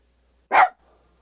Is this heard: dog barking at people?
yes